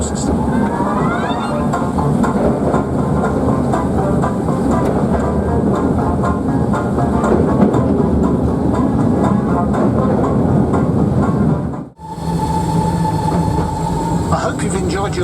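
London's Mail Rail underground postal railway train runs with a loud, steady rumble and clatter of wheels, broken by a brief dip before the noise resumes with a steady hum.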